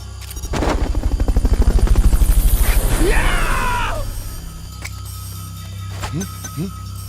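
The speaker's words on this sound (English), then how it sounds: "Fulton recovery helicopter is complete." Loud, steady rotor thumping of a Fulton recovery helicopter in the Metal Gear Solid: Peace Walker video game fades after a few seconds, with gunfire-like bursts, game sound effects and brief voices mixed in.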